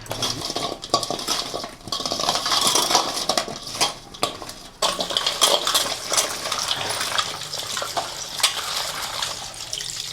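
Goat leg bones washed clean in water at home for a Telangana-style bone broth, with clattering bone and metal-vessel knocks and continuous splashing and rinsing throughout.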